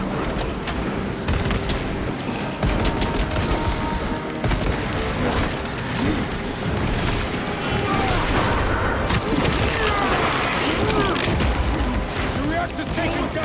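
Booming blasts and rattling gunfire fill a chaotic Warhammer 40k: Space Marine 2 battle, with a frag grenade explosion among loud, continuous combat noise and voices shouting in the mix.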